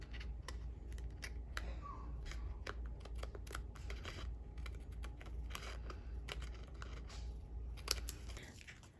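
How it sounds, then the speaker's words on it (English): Paper snips trim excess from an adhesive sheet during a sunflower papercraft project, giving a run of quick, close, crisp cutting snips with small rustles of paper, faint and fairly steady, with no talking. "some paper snips and just basically trim the excess"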